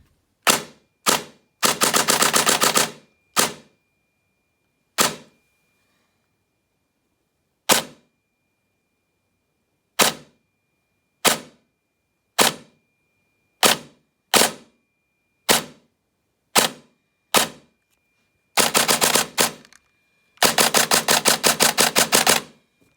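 A VFC UGRI M4 airsoft rifle fires on semi-auto with sharp, snappy single shots spaced a second or so apart, broken by a few short rapid strings of shots, close and loud with silence between.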